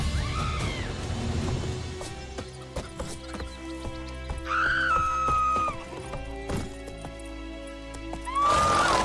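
Horse in The Witcher 3 video game whinnies several times, loud high neighs rising and falling, over steady hoof clip-clop and a layered game soundscape.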